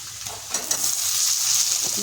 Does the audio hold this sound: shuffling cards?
no